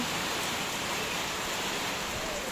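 Steady, dense rain hiss fills the whole stretch, with a broad rushing quality that suggests wind mixed in; no voices.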